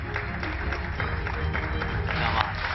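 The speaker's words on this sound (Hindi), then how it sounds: "अब चूंकि ऑडियंस इतनी तालियां बजा रही है" An audience in a televised studio setting applauds with steady, continuous clapping at moderate volume, a dense crowd texture lasting the whole stretch.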